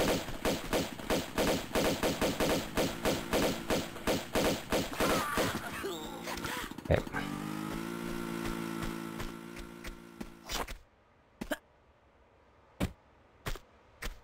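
Pistol fire in Tomb Raider 2, a rapid run of sharp repeated shots for about six seconds, then a sustained mechanical drone, followed by a few isolated louder single shots spaced apart near the end.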